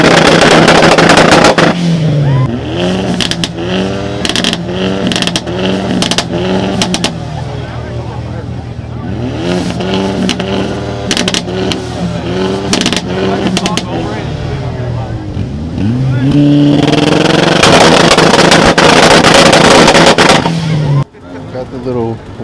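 At a car show two-step competition, a car revs hard on its launch limiter, sending out rapid bursts of loud popping and crackling with repeated revving swells across twenty seconds, close and dominant.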